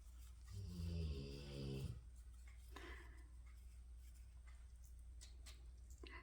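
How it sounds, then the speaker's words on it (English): A pet lets out one close, soft, drawn-out snore in a quiet room, followed by faint shuffling and light ticking sounds. "that is Kyla snoring her little head off"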